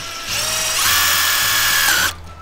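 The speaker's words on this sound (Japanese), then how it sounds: "じゃあ次にインパクトドライバーいきますね。" A HiKOKI cordless impact driver spins up and runs steadily for about two seconds, a loud, close, high-pitched whirring drone that stops abruptly, with no talking.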